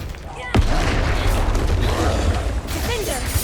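A Confringo blasting spell explodes in Hogwarts Legacy, a sharp boom followed by a sustained rumbling roar of combat effects, with a voice talking over the noise.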